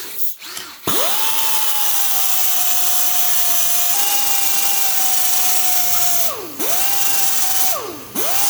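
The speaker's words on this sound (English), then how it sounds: "Take my grinder, 24 disc on it." Angle grinder fitted with a cutting disc working thin sheet metal, a loud sustained high whine as it spins up, holding steady for several seconds, then two quick dips in pitch as the disc bites and recovers.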